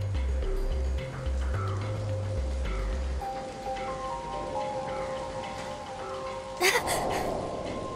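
Rain falls steadily in the video game Soul Hackers 2, a soft constant patter under low background music, with a brief sharper crackle near the end.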